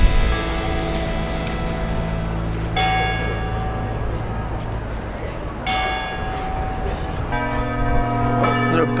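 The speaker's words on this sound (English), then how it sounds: "there are bells ringing all over the city, including where we are" Church bells in a Venice bell tower ring loudly and close, with sustained, overlapping metallic tones and repeated fresh strikes across the whole stretch.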